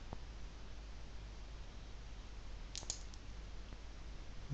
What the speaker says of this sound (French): Je clique dessus et je fais enregistrer.